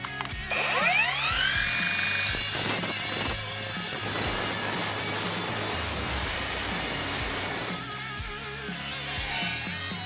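An Evolution 40V cordless sliding miter saw spins up with a rising whine, then bites into 1.5-inch aluminum square tube with 1/8-inch walls, giving a harsh, rattling grind for several seconds before the blade winds down, close and loud.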